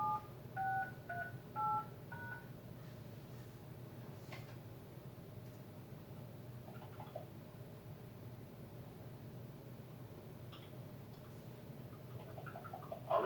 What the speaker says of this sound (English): Using your keypad, enter the last 4 digits of a phone number on file